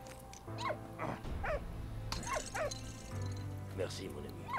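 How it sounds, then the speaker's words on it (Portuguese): A dog barks and yips in short bursts in the WWI video game Valiant Hearts, with someone talking over the barks against game music. "Quem que é o cachorrinho bonitinho?"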